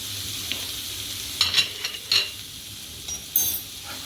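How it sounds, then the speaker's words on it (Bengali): Soft sizzling of prawns frying in a pan for chingri malaikari, with a few distinct scrapes and clinks of a spatula stirring at intervals over a quiet, steady background. "একটু নাড়াচাড়া করে নিচ্ছি"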